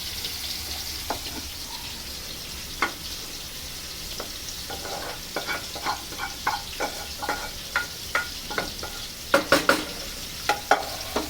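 Vegetables bubble in water in a pot as vegetable soup starts to boil, a low steady bubbling hiss with a growing run of small pops and spoon clinks toward the end, close and without speech.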